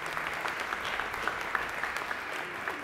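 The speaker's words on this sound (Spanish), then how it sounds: "para quienes también les pido un aplauso porque se portaron bárbaros con esto" An audience claps steadily and continuously at a civic activities presentation, a dense, even patter of many hands heard at a moderate distance with no voices over it.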